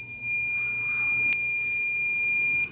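A homemade security alarm buzzer driven by a transistor sounds a loud, steady electronic tone close by, holding constant for nearly three seconds before cutting off abruptly, with a brief click partway through and no voices.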